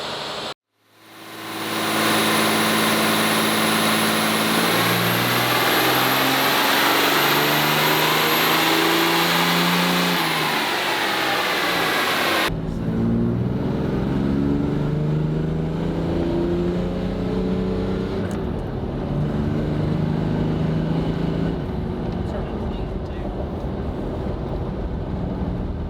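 A twin-turbo 6.0L Ford diesel truck engine, 2006 to 2012 with a Fleece VGT turbo, revs loud and sustained on a dyno, its pitch rising through long pulls, with the drone continuing at a lower level after a brief drop.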